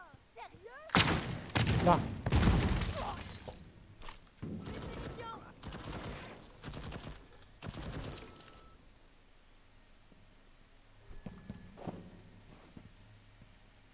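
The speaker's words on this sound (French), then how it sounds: "Qu'est-ce qui me tire dessus?" Bursts of gunfire aimed at the player in the video game Deathloop, several loud rapid volleys in quick succession up close, then quieter scattered shots, with someone briefly speaking.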